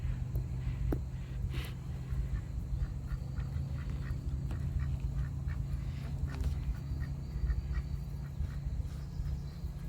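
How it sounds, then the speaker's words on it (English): Geese call from trees beside a riverbank in Tonaquint Park, with a handful of short, scattered honks rising above a loud, constant low rumble of outdoor noise. "So there are like 3 geese in the trees there."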